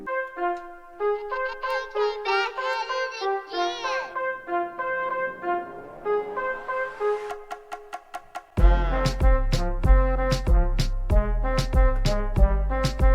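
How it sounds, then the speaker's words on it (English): An FL Studio beat in a Bad Bunny style layers a chopped vocal stack with a rising riser sweep, then drops into heavy bass and punchy drums halfway through, loud and busy. "Now if you combine that with a riser and your voice stack, it kinda sounds like this."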